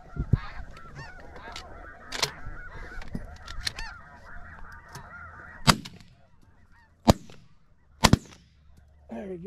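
Snow geese honk in a constant clamorous chorus during a goose hunt, with several sharp, loud gunshots cracking over the flock toward the end.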